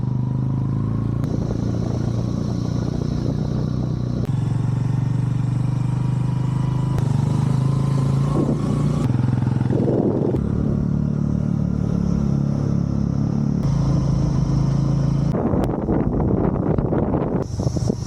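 A Honda CB Hornet 125 motorcycle being ridden, its steady engine drone overlaid with heavy wind rush against the microphone and occasional rattles, loud and continuous.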